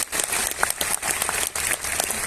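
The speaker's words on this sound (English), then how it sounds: "So a round of applause for Qatar and for what they have accomplished for all of us." Audience applause at a lecture in Qatar, a dense, sustained roar of many hands clapping together, fairly loud and continuous with no speech.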